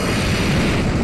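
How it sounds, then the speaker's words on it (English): An Explosion move in the Pokémon Omega Ruby/Alpha Sapphire video game: a brief, loud, steady rushing boom with a roaring broadband wash and no clear onset or tail. "So I get a nice big Explosion off."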